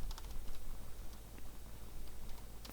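Quick, steady typing on a computer keyboard, with light, irregular key clicks close by and at moderate volume, no voice.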